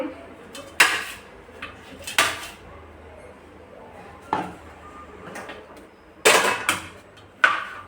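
Ridge gourd being chopped into large pieces with a kitchen knife, several sharp isolated knocks of the blade hitting a cutting board, spaced irregularly with quiet gaps between, close by.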